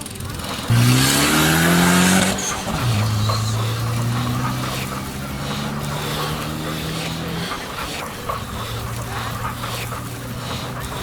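Jeep driving on the Cholistan desert rally track in Pakistan, recorded from inside the car, with a loud engine revving and shifting pitch through gear changes and a continuous rough road and wind rumble throughout.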